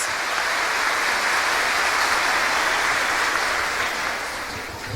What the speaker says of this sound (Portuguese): Vamos aplaudir com força a palavra de Deus.